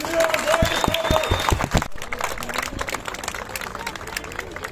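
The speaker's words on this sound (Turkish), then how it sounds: "Haydi güçlü bir alkış diliyoruz" Outdoor crowd at a street march applauding, a burst of sharp claps and cheering that gives way to crowd babble and chatter.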